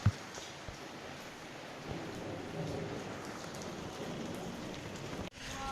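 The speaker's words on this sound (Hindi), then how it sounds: "अभी इतना तेज बारिश हो रहा था" Heavy rain falls in a steady, dense hiss that keeps going without a break, with a few sharper drops and knocks at the start and a short dip just before the end.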